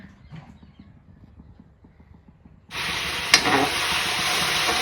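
Masala for jackfruit curry is stirred in a pan with soft rhythmic scraping, then a loud steady sizzle bursts in and continues as the spices fry.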